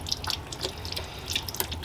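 Water runs and drips from a reverse osmosis filter faucet under an iSpring under-sink system, a close, splashy trickle with scattered drips and no talking.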